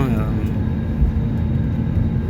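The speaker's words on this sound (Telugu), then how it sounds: "ఢిల్లీ ల్యాండింగ్ అయిపోయింది ఫ్లైట్." Airliner landing at Delhi airport, heard from inside the cabin as a steady loud low engine and rolling roar along the runway, continuous and close throughout.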